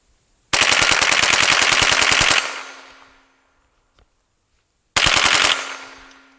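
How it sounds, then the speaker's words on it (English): Bump firing a Ruger 10/22 rifle fitted in a Gungner GR22 chassis outdoors: two rapid loud bursts of shots, the first about two seconds long and the second shorter, each followed by a fading echo. "Wow, you can bump fire it."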